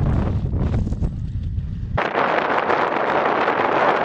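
Strong wind blasting across open desert near Dubai during a safari outing, a loud continuous roar with heavy microphone buffeting that jumps into a harsher, hissing rush halfway through, with no one talking.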